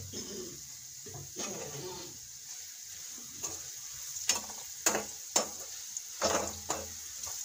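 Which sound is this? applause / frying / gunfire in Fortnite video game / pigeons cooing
frying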